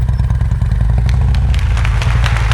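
Motorcycle engine during slow-speed riding practice, a steady close low rumble with a throbbing idle-like pulse and light mechanical clatter throughout.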